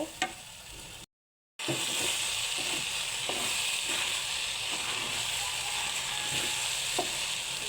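Cabbage fries in a pan with rice for a vegetable khichuri, giving a continuous close sizzle and hiss with light stirring scrapes after a brief silent gap near the start.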